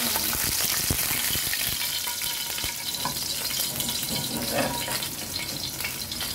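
A large whole fish sizzles and spatters steadily in hot oil in a pan, a dense continuous frying hiss with occasional pops and crackles, close and alone without talk.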